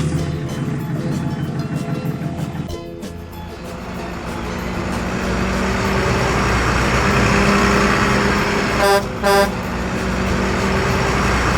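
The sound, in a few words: truck driving and honking its horn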